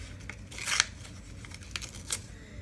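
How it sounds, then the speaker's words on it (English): A small piece of paper torn off by hand while making a rusty mermaid keychain: a few short, quiet rips and crinkles, with the clearest tear near the start and brief softer ones after, in a quiet room. "let me tear off a little piece of paper and I'll show you"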